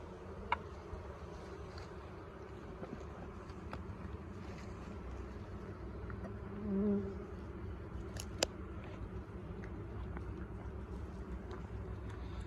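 Honey bees in an open hive give a steady, low buzzing drone that holds throughout, with a few faint clicks and small knocks from handling the frames. No one speaks.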